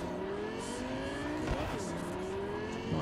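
A race car engine droning steadily during a street race in Cyberpunk 2077, with rising and falling engine whine through gear changes at a constant moderate level and a brief tyre scrub in the middle.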